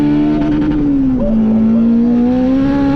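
A 500 bhp turbocharged B16 Honda Civic EF hatchback accelerates hard, the engine note loud and close, dipping briefly as it shifts and then climbing again under full throttle.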